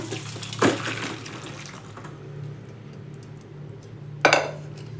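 Cooked jackfruit being drained after pressure cooking: two short, splashy bursts of water and clatter, one early and one near the end, with quiet low hum between them.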